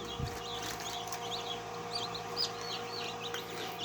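Many small ornamental chicken chicks peep rapidly and continuously in a shrill chorus over a low steady hum, likely an incubator, faint and close together.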